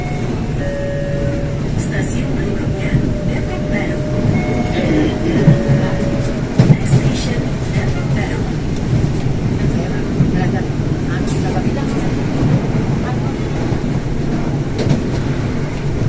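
A commuter train runs on the line between Universitas Indonesia and Bogor, a steady rumble of rolling carriages lasting throughout with faint clacking. A voice talks over it.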